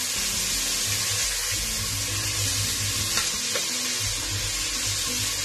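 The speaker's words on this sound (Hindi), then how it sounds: "एक दो मिनट बस आपने इसको फ्राई करना है जितने वेजिटेबल्स हैं" Chopped vegetables and tomato fry steadily in a pan for Pakistani-style masoor lentil soup, a continuous close sizzle with occasional stirring, no talking.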